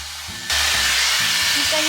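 A Dyson Airstrait hair straightener bursts into a loud, steady airy hiss of blowing air after a short quieter moment, running on continuously with faint low murmurs beneath it.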